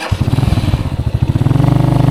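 A motorcycle engine idles and revs up close, a rapid throbbing putter that grows steadier and louder toward the end, near Calangan Springs waterfalls in La Castellana, Negros Occidental.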